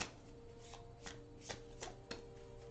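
A deck of oracle cards is shuffled by hand, giving a series of soft, rhythmic riffling bursts about every half second over a faint low hum.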